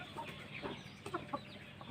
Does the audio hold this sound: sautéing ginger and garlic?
no